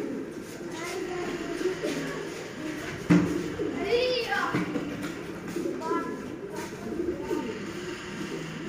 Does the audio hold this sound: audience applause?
no